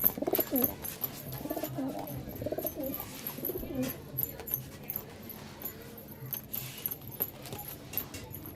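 Pigeons coo in soft, throaty bursts nearby in a pigeon loft, with wing flutters and clinking in the background.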